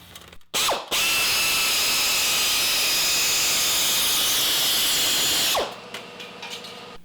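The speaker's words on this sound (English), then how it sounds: "it cuts sheet metal and also thin aluminum, and you can cut in a straight line or you can do corners and turns" Power sheet metal cutter slicing through sheet metal, a loud, sustained high-pitched grinding whine with a steady buzz lasting several seconds after a brief start, then winding down to quieter mechanical clatter.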